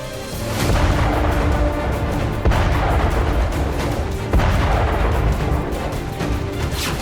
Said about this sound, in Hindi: ये धमाके, ये हमले, ये बारूदी बरसात खेरसोन की है।